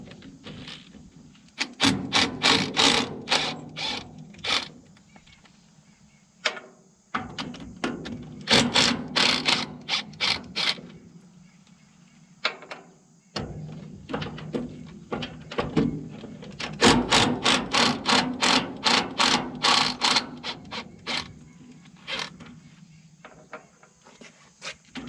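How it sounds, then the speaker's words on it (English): A power tool rattles in bursts of rapid, chattering impacts as bolts are buzzed off a machine's end cap. The bursts are close and loud, with short pauses between them, and no one speaks. "the easiest way I can think to do that is just to buzz the bolts off and take that end cap off"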